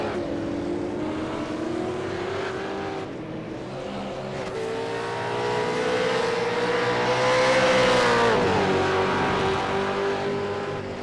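Race cars circuit racing at Phillip Island, with a loud, sustained engine drone that rises and falls as the throttle opens and eases, one car's note sweeping upward near the end amid continuous track noise.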